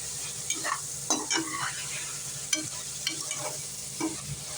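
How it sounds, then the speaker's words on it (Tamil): Ground masala sautéed with vegetables for veg biryani, a low sizzle under repeated scraping stirs of a spatula in the pan, several distinct strokes at an uneven pace. "அரைச்ச மசாலா இதை போட்டுக்கலாம் இதையும் வந்து காயோடு சேர்த்து வதக்கலாம்"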